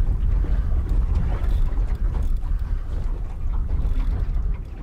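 Strong wind buffets a fishing boat at sea, a loud, steady roar of gusts and water rushing close to the microphone with no speech over it.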